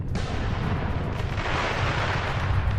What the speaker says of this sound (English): A powerful flame envelops it, and the dynamic protection starts to detonate.